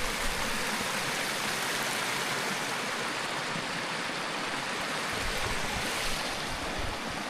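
Cascade Creek on the Colorado Trail pouring over white-stained rocks, a full, steady roar of rushing water heard up close, continuous and without talk.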